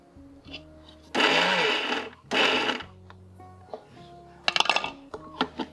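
A kitchen mixer grinder coarsely grinds green chilies in two short, loud bursts of whirring, followed by lighter clinks and knocks from the jar and lid.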